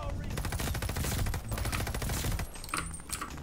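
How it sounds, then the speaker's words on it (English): Rapid automatic gunfire in the Call of Duty Vanguard video game, dense bursts of close shots rattling for about two and a half seconds before thinning out, with a voice talking faintly underneath. "Oh no, they're shooting at me"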